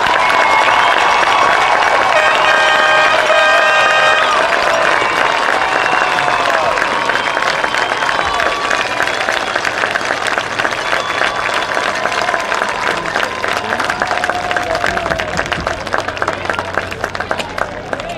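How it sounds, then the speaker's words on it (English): A large crowd applauds first responders at a high school marching band event, loud sustained clapping and cheering filling the full stretch with steady dense texture. "would you please show your sincere appreciation to our first responders with a round of applause"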